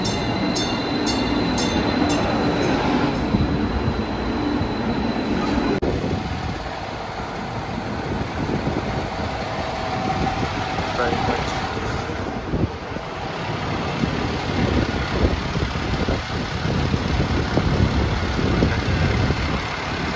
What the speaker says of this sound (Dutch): De metro van St. Louis. Kijk hoe die eruit ziet.